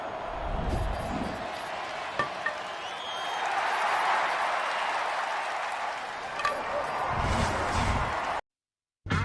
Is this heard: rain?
no